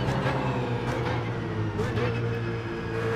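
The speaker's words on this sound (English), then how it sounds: "I'm going to be quiet for my flying lap, just so you guys can listen to the car" A BMW Z4 GT3 in the iRacing video game drones with a steady engine note, with shifting pitch under braking, heard at moderate level with no talking.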